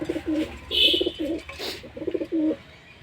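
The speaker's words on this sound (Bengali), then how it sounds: "এই যে আমার সেই সাদা চোখের কবুতর" A white-eyed high-flyer pigeon cooing close by, several low throaty coos in a rhythmic series with a short higher chirp in between.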